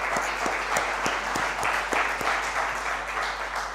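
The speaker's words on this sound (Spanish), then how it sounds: "denle un aplauso al Señor" A church congregation applauds: dense, steady clapping from many hands fills the room at an even level throughout, with no clear voices above it.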